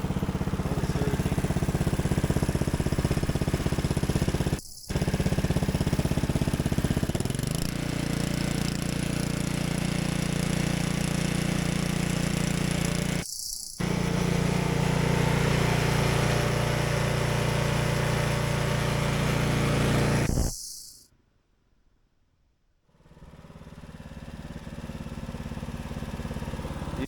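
Husqvarna ST124 snowblower engine running steadily after a cold start, with a loud, even mechanical drone that drops out in brief gaps, goes almost silent for a couple of seconds near the end, then resumes.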